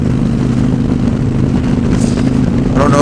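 A 2013 Victory Hammer motorcycle engine drones steadily up close, then the throttle is blipped during a downshift with a brief rising rev near the end.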